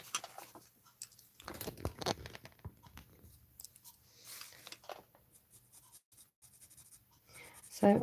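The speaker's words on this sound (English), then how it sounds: "So I'm putting the watercolour pencils directly onto the image" Watercolour pencils scratch across paper in a papercraft stamping project, quiet close-up strokes in short bursts and pauses, soft and intermittent with a faint rustle at the end.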